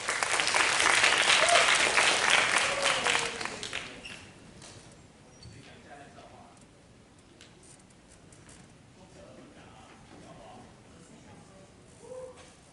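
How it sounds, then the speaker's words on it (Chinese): An audience at a university guitar club's end-of-term concert claps loudly and steadily for a few seconds, then the clapping fades into a quiet, murmuring room. "让我们掌声欢迎下一首歌曲"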